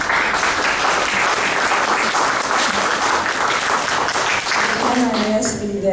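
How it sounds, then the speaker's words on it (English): Audience applause at a town council candidate forum, loud and sustained for several seconds, thinning near the end as a voice begins speaking over the fading claps. "I'm asking that everyone wait until the end of the entire section for your applause."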